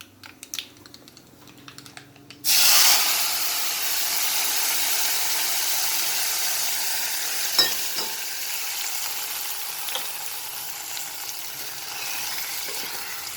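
A tempering for brinjal bajji frying in hot oil: a sudden loud sizzle bursts in after a quiet start of light clicks, then settles into a steady crackling hiss with occasional pops.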